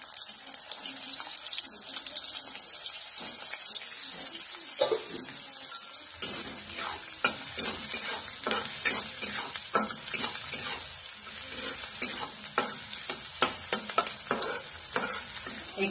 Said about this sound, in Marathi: तेल चांगलं गरम झालेलं आहे. आता याच्यामध्ये आपण कांदा घालायचा.